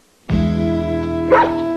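Dog in a 1989 Purina Dog Chow television advert gives one loud, close, drawn-out bark that turns into a whining, wavering howl, with no talk over it.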